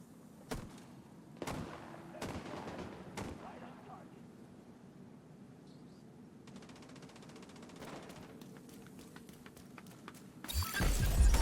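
Shotgun blasts in the video game The Division 2, a few loud, sharp booms spaced a second or so apart, then quieter stretches with a rapid burst of fire and a final loud blast at the end.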